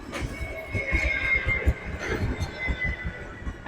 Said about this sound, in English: Like, oh my God, train.